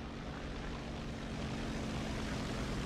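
Propeller aircraft engines drone steadily overhead in the War Thunder tank battle game, a constant loud buzzing hum with no talk.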